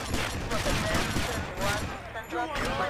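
Repeated gunfire from the video game GTA Vice City during a rampage mission, a steady run of close, loud shots with talk over part of it.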